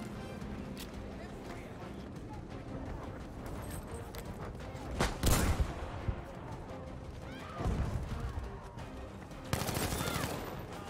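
Bursts of 1907 automatic rifle fire in the shooter game Battlefield V, short loud volleys separated by pauses, with a player talking and other game sounds in the background.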